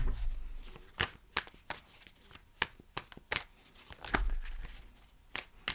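Tarot cards are shuffled and cut close by, with a steady run of soft riffling flutters and sharper card snaps at irregular intervals, alone without talk.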